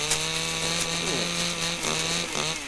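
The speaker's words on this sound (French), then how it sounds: "Tu peux garder la tronçonneuse" A chainsaw drones steadily while cutting wood, its engine pitch dipping as the blade bites in, loud and close with no voices.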